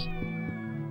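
A cat meows once in the video game Shenmue, close and clear, a single drawn-out tonal cry with no one speaking.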